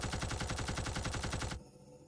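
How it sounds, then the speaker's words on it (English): Rapid automatic blasts from the repeater arm cannon in the PS2 game Shadow Tower: Abyss, a steady burst of evenly spaced loud shots that stops abruptly, leaving a quiet hum. "I call it the repeater arm cannon"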